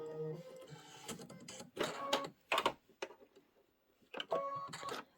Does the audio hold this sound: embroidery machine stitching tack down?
yes